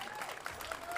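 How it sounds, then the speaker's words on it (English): Scattered applause from a small crowd outside a courthouse following a court decision, a brief patter of clapping mixed with open-air crowd murmur, moderately distant. "Applause scattered outside the courthouse after the decision."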